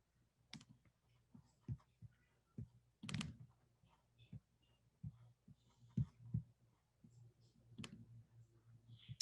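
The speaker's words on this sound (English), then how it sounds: "It's all the clicking of the boxes" A computer mouse clicks through on-screen boxes during a remote keynote presentation, giving faint, irregular taps spaced across a quiet room with soft background noise.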